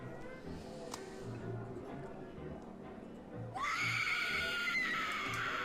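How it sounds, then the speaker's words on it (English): A woman's scream bursts out loud and shrill partway through, cutting over a low, quiet ambient bed in a 1920s tabletop game scene. "A woman's scream is heard from the nearby study."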